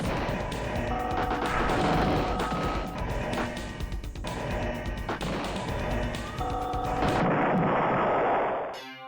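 Rapid, dense barrage of booming explosions and blasts from space combat in the video game The Ur-Quan Masters, loud and continuous for most of the stretch before cutting off abruptly near the end.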